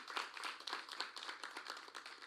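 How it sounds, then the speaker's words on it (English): Quiet, scattered clapping from an audience at the National Tourism Debate Finals, given for Michelle Tuller; faint and uneven, sounding distant, with no voices over it. "I would just like to start out by inviting you to give Michelle Tuller a round of applause"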